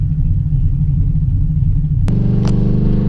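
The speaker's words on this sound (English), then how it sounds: "I'm going to go ahead and do a normal 20 roll, and right when I stab it, I'm going to shift it up to second" A pickup truck rolls with a deep, loud engine rumble, then the throttle is stabbed and the engine note jumps sharply as it pulls hard, with an upshift into second gear; no talking.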